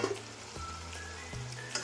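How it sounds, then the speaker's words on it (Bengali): Fried soybeans go into a sizzling spiced egg curry masala, giving a steady close hiss of hot oil with a couple of soft stirring thuds. "এরপর আমি ভাজা সয়াবিনগুলো এর মধ্যে দিয়ে দেবো।"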